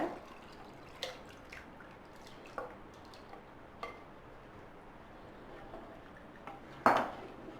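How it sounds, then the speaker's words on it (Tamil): Pieces of mutton go into an earthenware pot for curry, making soft scattered clinks and wet drops close by. The faint, sparse knocks come at uneven intervals, ending in a sharper clunk. "இப்போ நம்ம மட்டன் போட்டுக்கலாம்"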